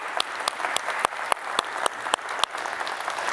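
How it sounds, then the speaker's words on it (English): An audience at a university author event applauds, with steady clapping and several sharp, distinct hand claps standing out close to the microphone in a regular rhythm. "Can we give her a round of applause"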